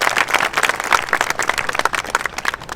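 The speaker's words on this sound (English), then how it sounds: "You deserve a round of applause." An audience applauds at an outdoor Arbor Day tree-planting ceremony at a school. The clapping is steady and dense throughout, with no voices over it.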